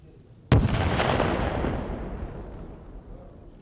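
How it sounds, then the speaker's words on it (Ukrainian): A single powerful controlled blast booms suddenly outdoors on open steppe, set to extinguish a steppe fire, followed by a long rumbling roar that slowly fades over a few seconds. "Ліквідувати степову пожежу вирішують вибуховим методом"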